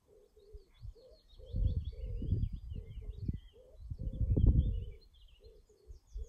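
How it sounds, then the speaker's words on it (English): A wood pigeon at a nature reserve coos in repeated soft, hollow phrases nearby, with faint small-bird chirps high above and gusts of wind rumbling through. "So that wood pigeon brings this video to an end."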